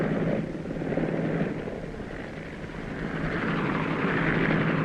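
A Whirlwind helicopter flying steadily, its loud broadband rotor and engine roar swelling and easing slightly over several seconds, heard alone.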